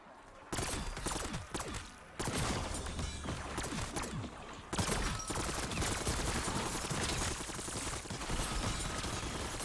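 A pack-a-punched level 3 gun firing in Black Ops 6 Zombies, rapid dense bursts of shots clustered in loud stretches with brief gaps, a steady rattling barrage dominating the scene.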